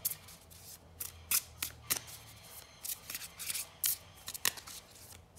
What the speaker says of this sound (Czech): Já si tam teda ještě musím dát jednu kartu.